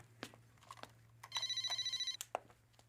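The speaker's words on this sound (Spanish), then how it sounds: "¡Que contestes el teléfono!" A telephone bell rings in a rapid, trilling burst of about a second, loud and close, with scattered clicks and bumps around it.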